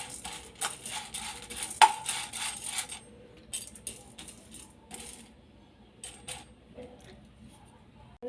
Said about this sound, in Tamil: கடலைப்பருப்பை நல்லா மிதமான சூட்டில் வறுத்து எடுத்துக்கலாம்